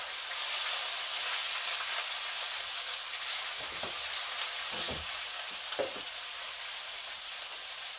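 A boneless beef blade pot roast sears in a hot pan, with a loud, continuous, close sizzle and hiss throughout, broken by a few low, brief knocks of the pan near the middle.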